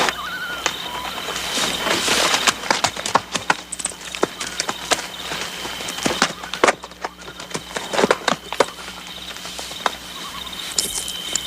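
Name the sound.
horse hooves clip-clopping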